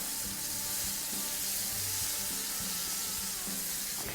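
Breaded venison cube steak fries in a Lodge cast-iron skillet over medium heat, a steady close hiss and crackle of sizzling oil with small pops, no talking.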